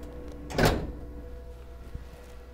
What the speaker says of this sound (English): and then you close the drawer